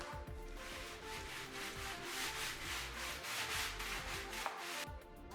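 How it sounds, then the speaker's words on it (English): Rhythmic abrasive rubbing of a sanding block against the top of a tile, back-and-forth strokes repeating steadily and close up. "we used a sanding block to shave the top of the tile"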